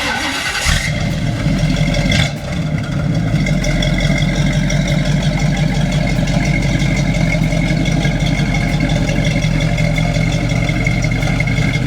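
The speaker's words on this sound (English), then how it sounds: "we put this 350 in here. It's a fresh build" A 1968 Chevrolet Camaro with a freshly built 350 V8 cranks, fires up and settles into a loud, steady, lumpy idle, heard close with no voices.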